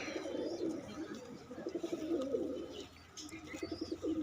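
Pigeons coo steadily in soft, throaty rolling phrases, close by, with faint rustling and a few higher chirps in the background.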